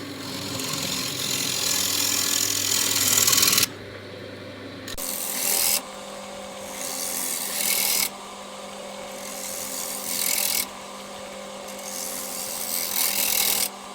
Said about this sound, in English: we're going to use a rounded ended chisel that can be drawn across the wood